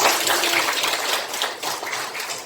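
A classroom breaks into applause, a dense patter of many hands clapping together, loud and steady throughout with no voices over it.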